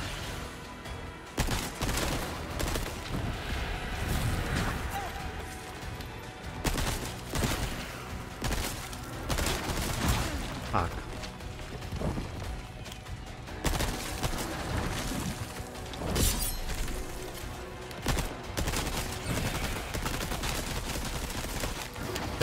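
Uzi bursts fired in Resident Evil 4 Separate Ways, repeated rapid automatic volleys with short gaps, loud and continuous over game ambience with no talking.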